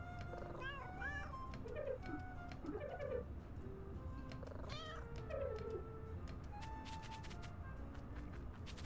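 Cat meows in the video game Little Kitty Big City, several short plaintive calls scattered over steady background game ambience, with occasional chirps mixed in.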